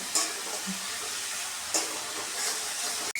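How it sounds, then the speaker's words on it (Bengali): Spice paste fries in a pan with a steady, close sizzle and hiss, with a few brief scraping stirs breaking through. "লাল লাল করে একটু ভেজে নেব"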